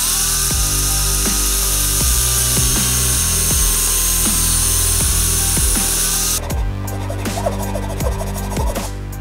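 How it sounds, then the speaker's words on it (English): A loud, steady power drill whines with repeated sharp bites and knocks as it cuts through a metal torque converter backplate for a 9 HP go-kart engine, the tone shifting near the end. "None of the holes on the torque converter backplate was a direct fit, so we had to drill some new ones"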